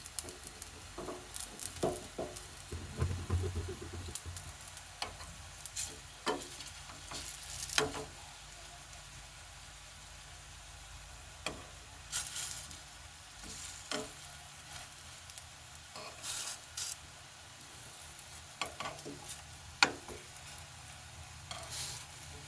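Flour pitha sweets frying in oil, a continuous close sizzle and crackle with occasional scrapes and clinks of a utensil breaking through, steady and moderately quiet throughout.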